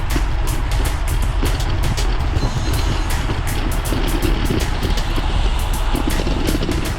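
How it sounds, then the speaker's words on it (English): A camera stick bounces against the brake lever of a bicycle being pedalled at a steady cadence, making quick irregular ticks and taps under a constant rush of wind and road noise. "I think that's the camera stick bouncing on the on my brake lever."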